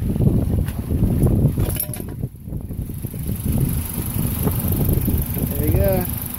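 A 2004 Dodge Neon SXT with a 2.0 l engine idling in reverse gear after transmission mount replacement, a steady low engine rumble close by with wind noise, while someone talks over it.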